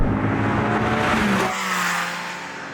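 Engines of a Ford Mustang Mach 1 and a Porsche Cayman rev hard during a close drag race, a loud, steady roar with rising and falling engine pitch, with no talk.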